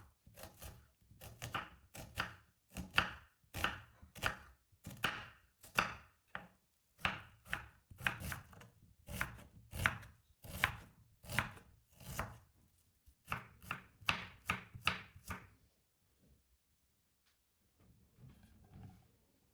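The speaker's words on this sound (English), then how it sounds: "Peel the onions and cut them into small pieces so they're easy to blend." Peeled onions being chopped into small pieces with a knife on a board, a steady series of sharp, close cutting strokes in quick bursts with brief pauses, ending in near silence.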